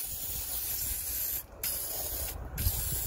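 Aerosol WD-40 sprayed onto a car suspension clamp during lower control arm work, a close steady hiss in two long bursts with a brief pause between them, with no talking.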